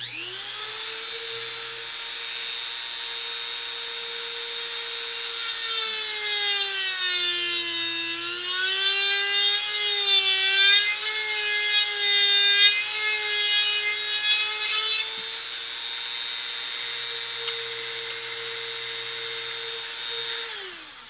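A file rasps on the wood of a flute to enlarge a tone hole, a close, continuous scraping rub with a harmonic, whistling ring that swells in the middle and then fades back to a steadier stroke.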